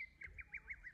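Birds call outdoors in a rural valley setting, a faint, repeated series of about six short, evenly spaced squawky chirps, a distant low hum beneath.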